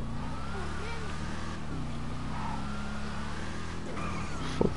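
A Box Chevy idles and cruises in GTA 5 Online with a steady low engine drone throughout, a brief squeal or tire chirp near the end.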